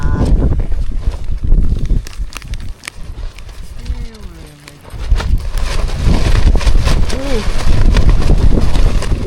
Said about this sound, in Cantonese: 果然大風真係大風啊！